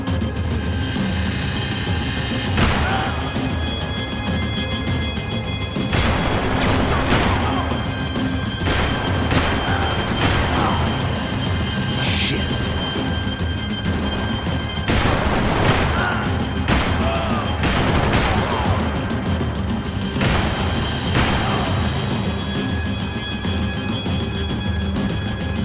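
Gunfire in the video game Max Payne 3 during a vehicle chase, repeated sharp shots and bursts over a constant engine-like roar, with a few voices shouting.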